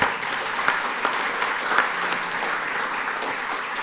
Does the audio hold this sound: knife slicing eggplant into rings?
no